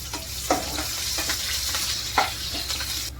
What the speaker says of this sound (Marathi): दोन मिरच्या चिरून घेतल्या आहेत मी, थोडासा कढीपत्ता घालते